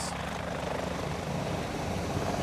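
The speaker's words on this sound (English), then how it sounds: "Not by horse, but by helicopter." A helicopter flies out of Upper Mustang in Nepal, its steady whirring rotor and engine roar filling the scene loudly and continuously, with no speech over it.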